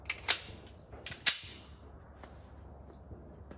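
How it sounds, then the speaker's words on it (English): A Glock 17 Gen 5 pistol with factory sights and trigger fires 115-grain wadcutters at an outdoor range. Two sharp, fairly distant cracks ring out about a second apart, each trailing off briefly into quiet. "I'm shooting a Glock 17. This is a Gen 5, nothing too fancy."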